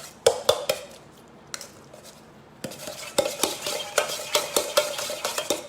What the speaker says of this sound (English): Now I am doing with the hand whisk.